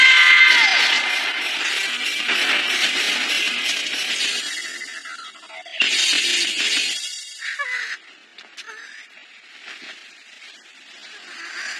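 A crowd cheers and shouts loudly in an anime scene, the roar swelling, dropping, then rising again in bursts.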